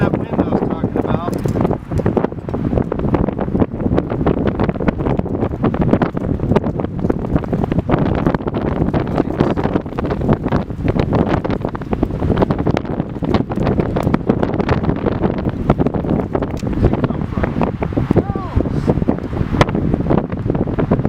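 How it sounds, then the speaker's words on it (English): Strong wind gusting across the microphone at an outdoor bushcraft camp, a loud, continuous roaring buffet that fills the whole stretch with no clear pauses. "here comes that wind I was talking about"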